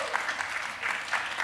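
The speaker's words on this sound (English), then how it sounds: "Saima deserves a huge round of applause." A short burst of steady applause from a panel-discussion audience, dense clapping held at an even level throughout.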